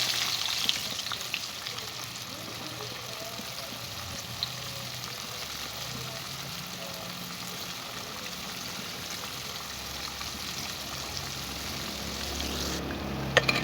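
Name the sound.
frying flour-battered tempe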